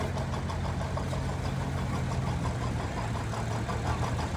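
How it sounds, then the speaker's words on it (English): An industrial-yellow John Deere 720 two-cylinder diesel tractor rumbles past in a heritage weekend parade in Lanesville, Indiana, its low engine thrum and rhythmic cylinder pulses running steadily and fairly loud throughout. "720, the second biggest tractor that John Deere made with a 2-cylinder motor."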